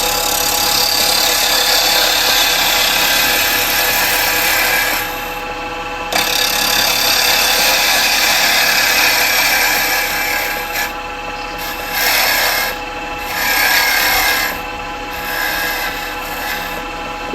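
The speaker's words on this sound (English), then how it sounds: "I'm just going to use square carbide to put tenon on the bottom." A square carbide tool cuts a tenon on a rotten tree branch spinning on a wood lathe, giving a steady, loud scraping rasp with brief dips and surges as the cut changes.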